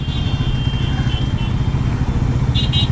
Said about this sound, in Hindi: तो गाइस बाइक मिसिंग मार रहा है गाइस, बंद हो जाएगा